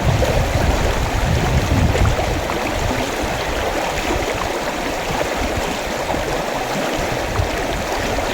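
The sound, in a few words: strong river current flowing, Moei River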